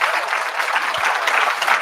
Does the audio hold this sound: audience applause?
yes